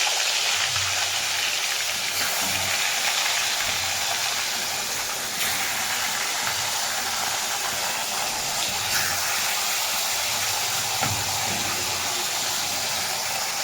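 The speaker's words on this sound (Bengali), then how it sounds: "এটাও আমরা এখন ভেজে নিচ্ছি" Pieces of katla fish frying in oil, a loud, steady hiss and crackle that runs unbroken throughout with no voices.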